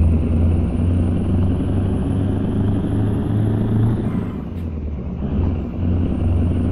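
Scania R400 truck engine accelerating in Euro Truck Simulator 2, a loud steady low diesel rumble and drone with a faint high whine on top, continuous and close, no talking.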